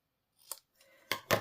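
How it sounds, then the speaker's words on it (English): Scissors snip the ends of a strip of gold foil paper at a slight angle for a card, giving a few short crisp cuts close up in an otherwise quiet room. "And then you'll take a pair of scissors and just angle the ends just slightly."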